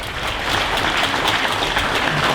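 An audience applauds auctioneer finalists at a state auctioneer championship in Kansas, a steady, dense wash of many hands clapping that holds at an even level throughout, with no talking over it.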